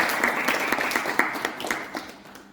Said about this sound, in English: So big round of applause for our